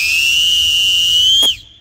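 A 3D-printed plastic whistle is blown hard, giving a loud, piercing, steady high tone that holds for about a second and a half before cutting off abruptly with a brief falling squeak.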